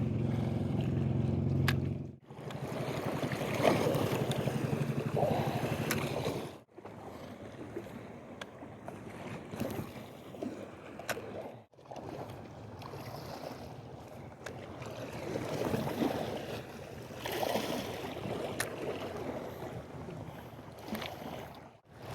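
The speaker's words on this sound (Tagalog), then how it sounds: "malakas yung hangin" Strong wind buffets the microphone in loud, rumbling gusts over open water, with brief drops between blasts and faint lapping underneath.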